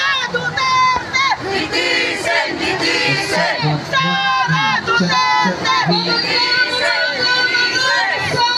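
A large crowd of demonstrators at the Senate during an impeachment trial shouts and chants loudly and continuously, many voices merging into a dense, rising roar.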